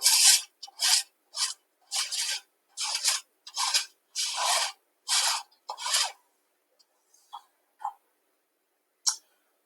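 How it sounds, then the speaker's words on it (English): A bowl scraper pushes dry baking ingredients, flour and salt, through a mesh sieve in about nine rhythmic rasping strokes close up, then a few fainter scrapes and taps as the work trails off. "I'm going to use my bowl scraper and just press the dry ingredients through my sieve."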